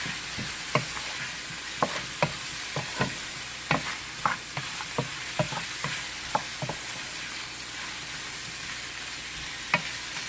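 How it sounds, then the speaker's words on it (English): Sliced eggplant fries in a pan for Guyanese fried baigan, a constant bright sizzle broken by repeated sharp spatula scrapes and taps at an uneven rhythm, close and fairly loud. "And let this fry up for 2-3 minutes."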